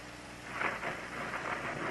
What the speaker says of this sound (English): The skies over Bristol had threatened rain all day, and it finally came.